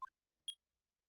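Two short electronic beeps from a phone button in the Ace Attorney video game, the first lower-pitched and the second higher, about half a second apart and clean with no talk.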